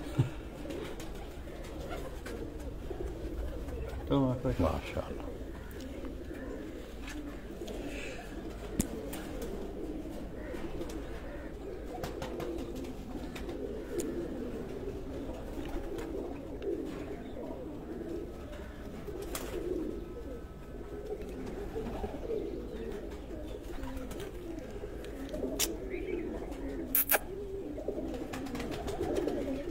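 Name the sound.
pigeons cooing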